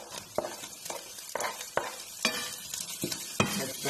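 Onion frying with chicken sausage and potatoes in a pan, sizzling under repeated rhythmic stirring scrapes and clacks, roughly one every half second, close and steady, with no speech.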